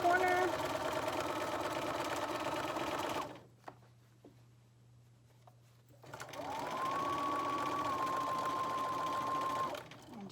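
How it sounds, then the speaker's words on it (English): A sewing machine top-stitches a fabric face mask in two steady whirring bursts separated by a quiet pause, the motor close and even throughout each run. "And just top stitch this"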